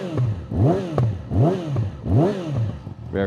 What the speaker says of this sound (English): I like the pops that the exhaust has.